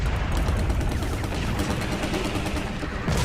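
A helicopter blows up in the video game Kaiju-A-GoGo amid a dense, loud barrage of crackling blasts that rumble continuously for a few seconds.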